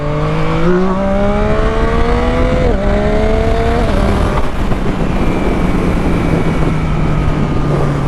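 A motorcycle engine revs and holds its drone while the rider pulls a wheelie. Sliding engine tones rise and fall over heavy, constant wind rush, loud and close for the whole stretch.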